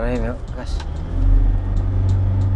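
An old Toyota Innova with a remapped ECU accelerating hard on the road, its engine drone rising and swelling in pitch beneath someone talking inside the cabin.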